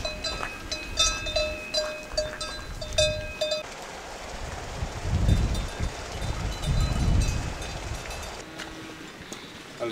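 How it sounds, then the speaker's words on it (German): Cows graze on a mountain pasture in the Dolomites, with cowbells clanking intermittently, some nearby and some farther off, over gusty wind noise. "Alles voller Kühe."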